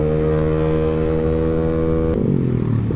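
A Honda Beat 115cc scooter with a racing exhaust drones with a steady, buzzing engine note that shifts in pitch partway through, heard up close with no talking.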